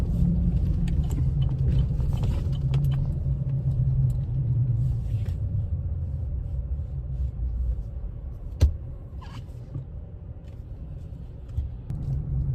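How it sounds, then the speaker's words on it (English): Busy downtown Houston traffic heard from inside a lifted truck: a low, steady engine and road rumble dominates, with a single sharp knock partway through and faint passing noises. "This Houston downtown right now, as you can tell, it's always fucking busy as fuck."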